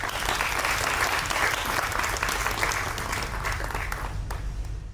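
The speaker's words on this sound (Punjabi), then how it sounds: "ਤਾੜੀਆਂ ਮਾਰੋ ਸੱਚ ਕਰਕੇ ਵਿਖਾਇਆ" Crowd applause at a Punjabi film festival poster release, a sustained, full burst of clapping from many people that stays strong before easing off at the very end.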